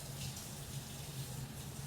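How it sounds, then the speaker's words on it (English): Water from a tap runs steadily over a Chalk Couture chalk transfer being rinsed after making a chalkboard sign, a continuous close rushing and splashing with no talk. "Let me get some water on my transfer over here."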